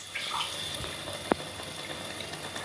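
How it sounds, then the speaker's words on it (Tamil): Water pours steadily into a pan of Tamil-style anchovy fish curry (nethili kuzhambu), a continuous close splashing hiss with one brief sharp clink partway through. "லைட்டாக தண்ணி ஊற்றிக்கிறேன்."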